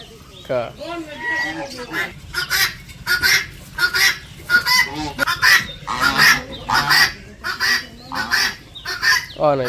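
Guinea fowl and chickens call from a village homestead in a rapid run of harsh, repeated squawks, close and loud, with some talk faintly underneath.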